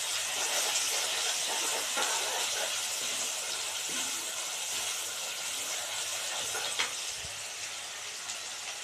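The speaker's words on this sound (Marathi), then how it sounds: "कांदे परतून घेऊ।" Onions sautéing in a pan for shev bhaji, a steady close hiss of frying that continues evenly throughout, with a faint clink near the end.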